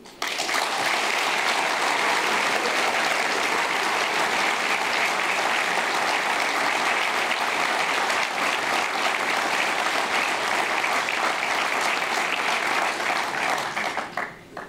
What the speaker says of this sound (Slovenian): Se aplavz zasluži tudi Jože in ekipa Foruma za kmetijstvo in podeželje za zmago na volitvah